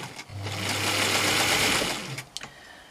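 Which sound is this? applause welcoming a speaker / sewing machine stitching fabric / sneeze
sewing machine stitching fabric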